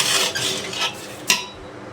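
Rice grains are stir-fried in a pot, with brisk scraping and stirring strokes of a utensil against the pot that fade toward the end, with no voices.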